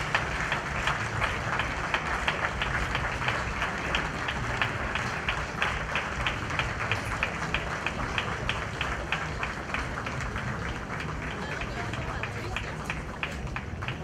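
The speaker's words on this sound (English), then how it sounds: "Please give her a round of applause." Rhythmic, rapid clapping from a crowd at a fiftieth birthday celebration, evenly pulsing and sustained at moderate loudness, with voices mixed underneath.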